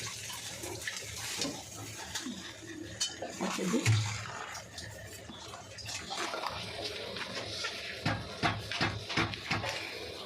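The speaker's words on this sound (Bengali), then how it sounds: "এবার ভালো করে আমি মিক্স করে নেব" Sugar being mixed by hand into a fritter batter of mashed palm fruit in a bowl: a steady wet squelching and scraping, with a soft clatter at one point and a run of quick sticky slaps toward the end.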